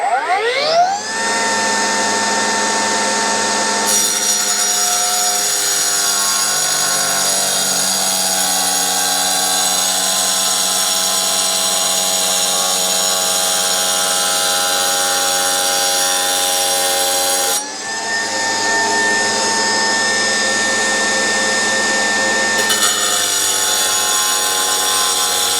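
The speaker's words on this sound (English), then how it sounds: "what I'm going to be using for this scoring is the Milwaukee 9-inch. Doing my first pass at the score." Milwaukee 9-inch grinder scores porcelain tile outdoors with a steady, loud, high whine that holds throughout, briefly dipping and resuming partway through, with no talking.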